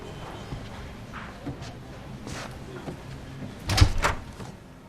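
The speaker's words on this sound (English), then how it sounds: "Shut the door." A door is shut indoors, a firm thud with a brief latch rattle near the end, preceded by quiet shuffling and movement in a hushed room.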